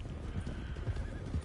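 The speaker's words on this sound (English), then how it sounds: "it's because there's wild horses" Wild horses galloping in Red Dead Online, a short burst of muffled hoofbeats thudding irregularly at middle distance, alone without talk.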